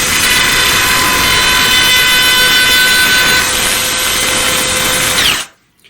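A Ryobi cordless router cutting wood while freehand carving a sign, giving a loud, steady high-pitched whine with a broad grinding roar that runs for several seconds, then cuts off abruptly.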